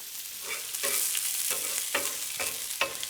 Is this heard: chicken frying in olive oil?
yes